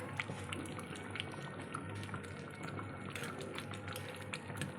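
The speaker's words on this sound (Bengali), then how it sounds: "ফুটতে শুরু করে দিয়েছে ঝোলটা" Goat head curry gravy bubbling away in a pot, a steady low simmer with soft liquid pops and gurgles running continuously throughout, moderately quiet and close with no voices.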